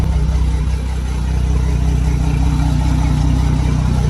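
A Mercury 300 supercharged outboard boat engine runs steadily nearby, a loud, even low-pitched drone with a rough pulsing rumble and no voices.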